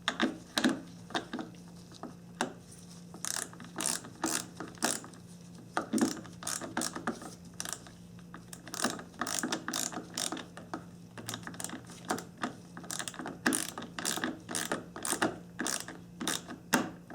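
A ratchet tightens a car battery terminal nut, giving rapid bursts of sharp, close clicking that come in uneven runs with brief pauses between strokes.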